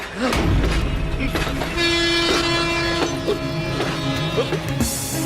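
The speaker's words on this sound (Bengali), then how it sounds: "কিন্তু আপনার ট্রেন তো বেরিয়ে গেল।" A train pulls out of a station, a sustained horn tone sounding over the rolling, clattering wagons, loud and close, with no talk over it.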